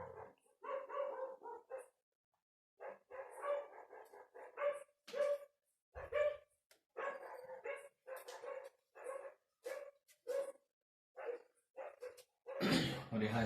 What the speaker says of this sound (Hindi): थोड़ा कुत्ता उत्ता भौंके तो आप लोग एडजस्ट कर लेना